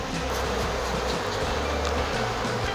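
Dense, steady buzzing of many honey bees close by at a hive during an acacia honey harvest, a constant droning swarm with no pauses.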